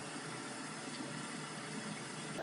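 Heavy rainfall used as background noise for testing AirPods 4 microphones, heard as a soft, constant wash of hiss throughout, with no talking.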